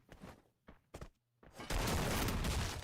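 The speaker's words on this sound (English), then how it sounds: "he gets sniped by Scanta, who was with his M24 and definitely did not miss" An M24 sniper rifle in Free Fire: a few short sharp shots and thuds, then a sustained loud burst of gunfire noise, fairly close.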